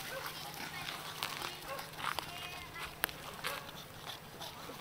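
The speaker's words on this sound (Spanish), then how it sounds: "Estos perros corren curiosamente." Dogs running and playing outdoors, with faint scattered yips and barks under ongoing talk and broadband rustle, plus one sharp click midway.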